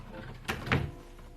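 A drawer being pushed shut after a box is stored inside: two quick knocks close together, a light bump followed by a fuller thud, in a quiet indoor room.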